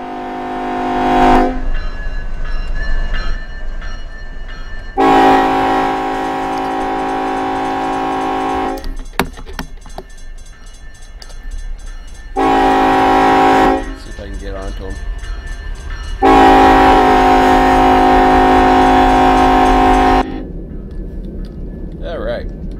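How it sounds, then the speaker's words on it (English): Amtrak train in the Run8 V2 train simulator game, loud sustained multi-tone horn blasts in long repeated bursts over a low rumbling engine, with someone talking between the blasts. "I think we got the Amtrak coming"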